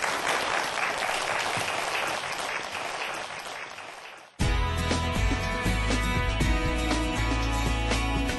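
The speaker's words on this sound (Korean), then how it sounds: "여러분 박수를 청해 듣겠습니다" An audience applauds before a science lecture on stem cells and regenerative medicine at Yonsei University. Loud, dense clapping from a large crowd gradually tapers off, then cuts to music.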